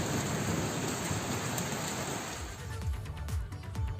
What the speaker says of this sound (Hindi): पहाड़ी इलाकों में बारिश, मैदानी इलाकों में बारिश